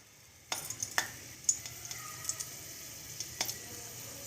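Oil heats in a pan for frying, with a faint steady sizzle near the mic and a few sharp ticks and pops scattered across it.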